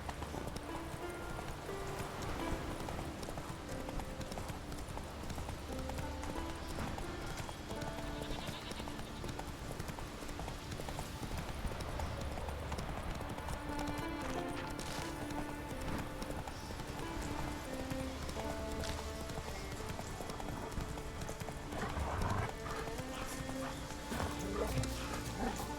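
Horse hooves pounding at a gallop in The Witcher 3: Wild Hunt, a steady rapid clip-clop running throughout at moderate volume under game music and ambience.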